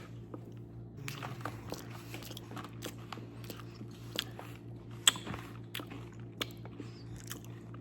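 Close, soft biting and wet chewing on a deviled egg, with small crunchy clicks and squishy mouth sounds repeating irregularly over a low steady room hum, no talking.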